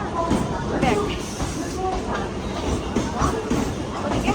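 Rumble and rattle of a train carriage in motion, with a busy crowd murmuring and people talking over the noise.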